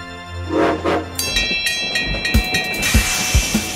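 A cartoon train chugs along with rhythmic clacking and a bright whistle-like tone, close and fairly loud, with a few quick hits along the way.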